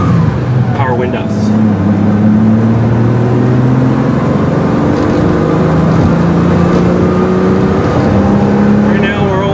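A 1982 Ferrari 400i GT with a five-speed manual climbing through the gears toward 4,000 RPM, its engine tone rising and dropping at each shift, loud and steady under low background noise.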